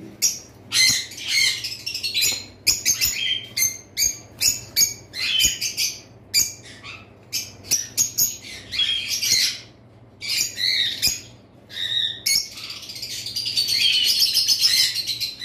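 Caged lovebirds kept as breeding pairs let out loud, sharp chirps and harsh squawks in rapid irregular bursts. The bursts come close and clear with brief gaps, building into denser chatter at the end.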